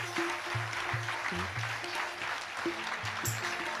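Sustained clapping from a seated congregation at an SMVS Swaminarayan satsang discourse, a soft broadband patter heard alongside steady, recurring musical tones, fairly quiet and without speech.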